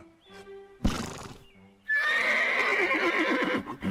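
A cartoon horse gives a loud, close whinny that rises and falls, with clip-clopping hooves and a short thump, and no talking over it.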